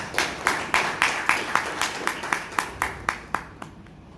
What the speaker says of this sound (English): give our tag team a big round of applause.